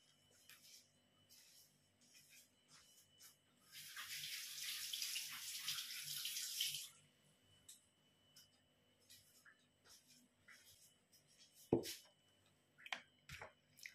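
Water pours into a pot of Pakistani biryani rice in one steady splashing burst lasting around three seconds, fairly close, with quiet kitchen clatter before and after.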